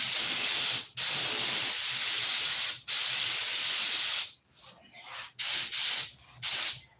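Loud, close hiss of a paint spray gun laying down a coat mixed with retarder, long continuous bursts broken by brief pauses, then several shorter spurts at the end.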